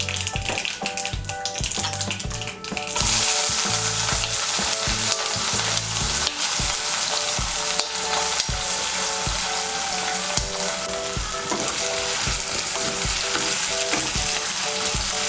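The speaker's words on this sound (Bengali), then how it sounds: "নিয়ে এর মধ্যে দিয়ে দেবো পেঁয়াজ কুচি।" Chopped onion sizzles and fries steadily in hot oil for a jhal suji made with winter vegetables, with stirring clatter and a brief louder burst near the start, close and continuous without talk.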